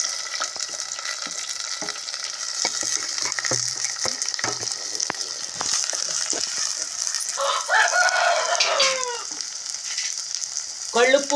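Chopped onion pieces sizzle steadily in hot oil in a pan, a continuous close crackle, while a rooster crows in the distance partway through.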